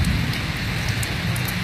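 Natural afternoon rain pours down steadily, a dense, close hiss of drops hitting surfaces that stays unbroken for the whole short stretch.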